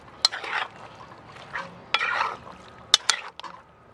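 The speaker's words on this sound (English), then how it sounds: "We're going to swish around some water in that to braise this goat shortly." Water is swished around inside a pot holding curry goat marinade over an outdoor coal pot, giving repeated sloshing scrapes and short metallic clinks in bursts.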